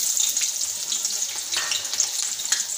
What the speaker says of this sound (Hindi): अब हम इसमें प्याज शामिल कर देंगे।